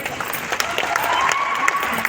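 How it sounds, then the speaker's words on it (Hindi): Brief applause from the crowd at an event hall in Raipur, dense clapping throughout the short clip with voices over it. "ये प्रमोटर भाई लोगों के लिए तालियां बजाएंगे।"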